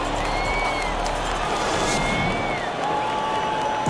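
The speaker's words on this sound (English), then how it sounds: "how about a big round of applause for your Sixers?" Crowd applause and cheering from an NBA 2K23 basketball broadcast fill the arena as a steady, dense wash of clapping, loud and continuous throughout, with tones from the game's audio running over it.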